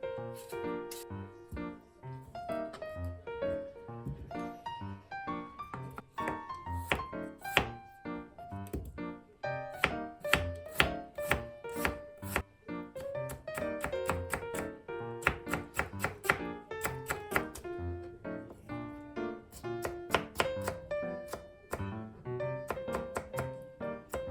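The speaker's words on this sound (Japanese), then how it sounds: "じゃがいも 300g を細切り" A knife chops 300 g of potatoes into thin strips on a cutting board in quick, steady rhythmic taps, close and distinct, with music playing underneath throughout.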